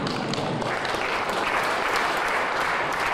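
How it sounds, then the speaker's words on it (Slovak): Paralympic athletes applaud together, a dense continuous wash of clapping from many hands, steady and fairly loud throughout the short stretch. "po chvíli sa celá situácia skončila potleskom všetkých paralympionikov"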